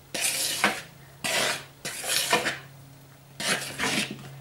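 A spatula or spoon folds cake batter with an oil and milk mixture and self-raising flour in a bowl, giving four bursts of scraping, swishing strokes separated by short pauses, with a faint hum underneath.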